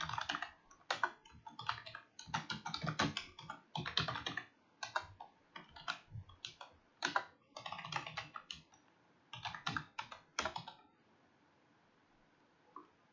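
Code typed on a computer keyboard, bursts of rapid close key clicks with brief pauses for about ten seconds, then quiet, no speech.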